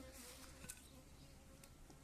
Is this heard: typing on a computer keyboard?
no